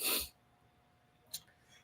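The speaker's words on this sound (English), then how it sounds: "I gotta sneeze again, y'all." One sharp, close sneeze bursts out at the very start, followed by near silence and a brief breathy sniff toward the end.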